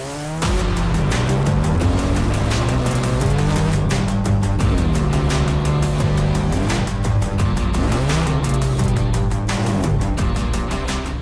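A Mazda driven hard on a dusty gravel road, the engine revving up and down in repeated rising and falling sweeps, loud and close, with grit rattling against the car throughout.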